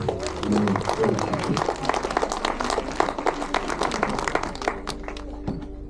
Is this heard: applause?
yes